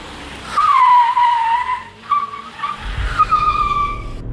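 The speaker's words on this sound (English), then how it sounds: "The turbo blow-off valve, the exhaust, it's all just so satisfying. But it's even better when you show it a set of bends." A Tata Tigor JTP car corners hard, its tires squealing in a long high screech followed by shorter squeals, with exhaust and engine noise underneath.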